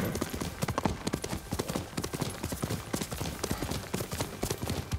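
A horse trots in the video game Ghost of Tsushima, its hooves clip-clopping in a steady, close rhythm throughout, with occasional faint voice underneath.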